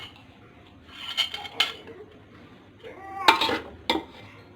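Vegetable pulao is served from a cooking pot onto a dish, with a few metal spoon-on-pot scrapes and clinks in short bursts and quiet pauses between them.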